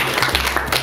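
A short burst of audience clapping at an etiquette seminar, steady and fairly close for under a second, with a low hum underneath.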